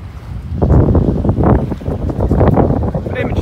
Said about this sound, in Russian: Ветер достаточно холодный дует.